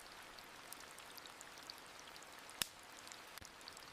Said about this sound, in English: As the rain intensifies